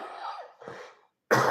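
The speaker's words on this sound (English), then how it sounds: "I'm going to have a quick cough." A person coughs and clears their throat a couple of times, close and dry, after a cold, then a short pause before another burst.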